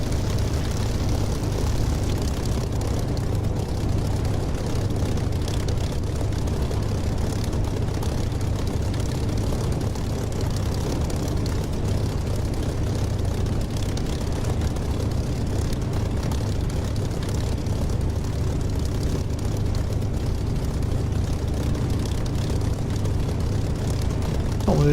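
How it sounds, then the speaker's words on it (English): A Spitfire's propeller engine drones steadily through a takeoff in the DCS flight simulator, a dense, unbroken low rumble at constant loudness throughout. "would you like me to explain takeoff in a Spitfire?"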